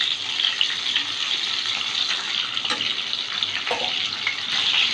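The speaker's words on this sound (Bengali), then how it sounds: "বাকি পটলগুলো ভেজে নেব।" Pointed gourd (potol) pieces fry in mustard oil in a kadai. A dense, continuous sizzle hisses loudly and close the whole time, with a few faint knocks underneath and no voices.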